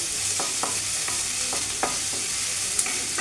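Chopped onions fry in oil for an omelette cutlet, giving a steady, fairly loud sizzle broken by intermittent spoon strokes against the pan.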